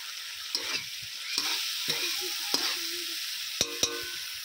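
Spice paste fries in oil with chopped coriander leaves added, for a potato and cauliflower curry, giving a steady sizzle punctuated by repeated spatula knocks and scrapes against the pan.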